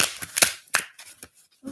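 A deck of cards is shuffled in short, sharp riffles and snaps, a quick cluster of crisp bursts followed by a few scattered flicks, close and fairly loud.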